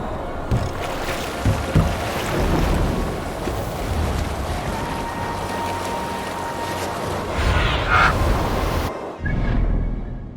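Viking ship sailing out of a fjord in the Discovery Tour Viking Age game, with a steady wash of water and creaking hull running throughout, a brief bright tone near the end before a short drop and return.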